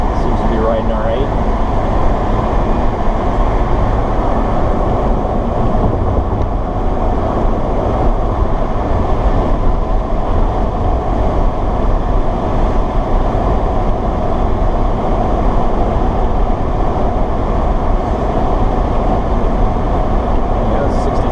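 Electric-converted BMW 320i cruising on a highway at about 65 mph, a loud steady broadband road and wind rumble from inside the cabin with no engine note.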